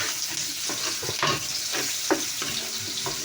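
Garlic sizzling in hot oil as it is stirred for pork binagoongan, a loud, steady frying hiss broken by repeated spoon scrapes and knocks against the pan, close and without talk.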